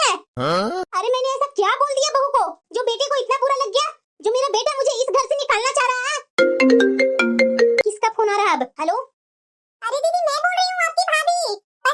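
A mobile phone ringtone plays a short electronic melody for a couple of seconds, surrounded by animated speech in Hindi from a comedy scene.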